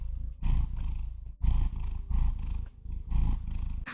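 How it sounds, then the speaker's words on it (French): A cat purrs close up in steady rhythmic cycles, each rumbling breath swelling and easing about once a second, with no talking over it. "Vous l'entendez ronronner?"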